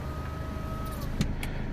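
An electric window motor in a Land Rover Freelander Td4 running briefly, a faint, thin whine inside the quiet car followed by a couple of soft clicks and knocks as the window stops.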